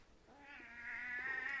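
A cat meows in a long, drawn-out, rising complaint, fairly close and growing louder toward the end, heard alone without talk over quiet room background.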